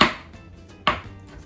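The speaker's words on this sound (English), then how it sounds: "we're just gonna chop it up here." A knife chopping fresh ginger on a cutting board, two crisp separate chops close up with a short pause between them, no voices.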